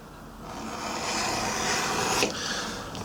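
A fine edge beveler shaves the back edge of 3mm dyed-through shoulder leather, producing a close, steady rasping scrape that swells and ends with a brief sharper scratch, heard alone.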